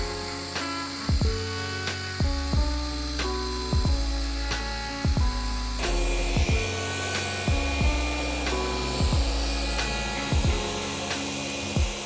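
A car detailing polishing machine runs steadily on painted bodywork, giving a continuous whirring drone with repeated short thumps and clicks as the pad shifts across the panel. No voices are heard.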